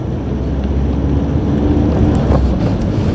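Strong gusts of wind on a wet, stormy morning buffet the microphone in a steady, loud roar with no pauses, no voices heard.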